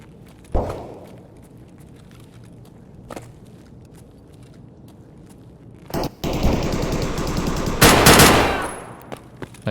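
Gun fire in Escape from Tarkov on the Factory map from a weapon with heavy recoil. A few isolated shots come first, then sustained rapid automatic bursts late in the clip, loud and close.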